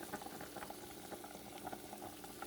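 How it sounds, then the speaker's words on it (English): Cod soup bubbles and simmers in a covered pot on the stove, a soft continuous burble of boiling liquid with small irregular pops, close and steady. "If you start boiling like this, just reduce the heat"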